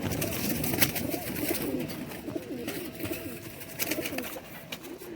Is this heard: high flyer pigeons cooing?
yes